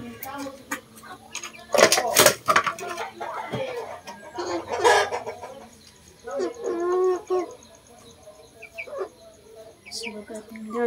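Crossbred chickens cluck and call in a coop, with bursts of layered clucking close by and a person talking intermittently among the birds.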